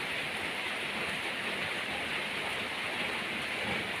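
Steady, dense rainfall hisses evenly throughout, a constant wash of falling water with no voices.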